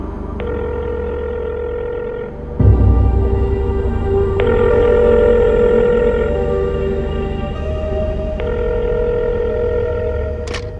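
A telephone rings in a Hindi-dubbed romantic film scene, a steady electronic ringing tone repeating over a low background hum, loud and close with no voices over it.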